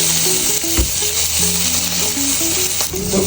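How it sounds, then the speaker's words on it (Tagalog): Garlic and onion sizzling in hot frying oil, a loud, steady, close crackle with faint stirring scrapes throughout and no voices. "maglagay muna tayo ng oil. And maglagay tayong bawang. Sabay na natin sibuyas."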